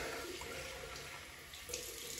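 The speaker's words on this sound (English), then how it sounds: "Cold water rinse, keep the face wet." Cold tap water runs steadily into a sink for a rinse during a wet shave, a soft continuous splash and hiss heard up close with no voices.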